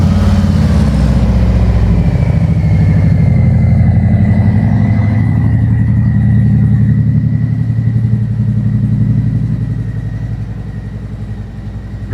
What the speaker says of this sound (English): I'm going to go ahead and crank it up so you can hear the before, or the stock with mufflers